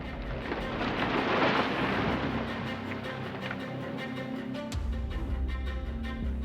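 Thunder from a lightning strike on a beach lined with palm trees booms in a loud, long roll, swelling and then fading into a lower rumble.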